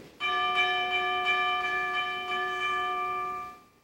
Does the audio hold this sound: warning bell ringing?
yes